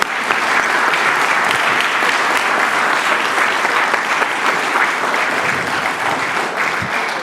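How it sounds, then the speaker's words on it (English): Sustained, dense applause from a lecture audience welcoming the speaker at the evening's Hendrik de Waard physics lecture, steady and loud from start to finish with no talk over it. "But for Kjeld, can I have a round of applause?"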